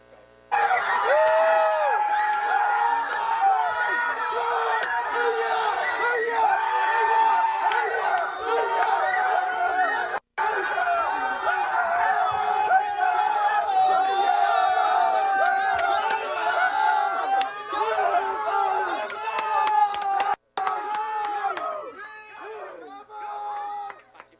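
Family and friends cheer and shout excitedly, a loud, continuous crowd of overlapping voices, while they watch a horse race at the Taif racing season meeting.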